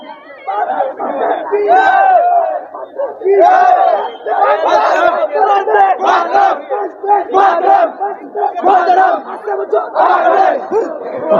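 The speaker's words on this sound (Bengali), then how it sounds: "কি স্লোগান হচ্ছে, স্লোগানটা সত্যি, স্লোগান শুনে গায়ের ড্রোম টেক হয়ে যায় সত্যি" A large crowd chants slogans in loud, rhythmic bursts at the Kanki Dham Baba Ramdev temple in Uttar Dinajpur; the massed voices rise and fall in repeated waves with short gaps between them.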